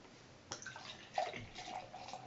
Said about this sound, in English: Let's take a look at this pour here